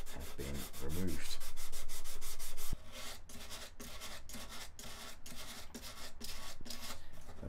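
Hand sanding of a wooden guitar body with 180-grit paper, a steady close scratchy rasp of repeated back-and-forth strokes, heavier and continuous at first, then lighter rhythmic passes.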